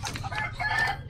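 A red junglefowl rooster crows in a backyard, one drawn-out call that starts high and ends in a falling tail, heard close and clear over steady low farmyard noise.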